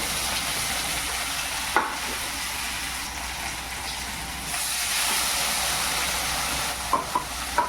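Parrot fish frying in hot oil with a steady loud sizzle and hiss, with a few soft clicks and knocks of the pan.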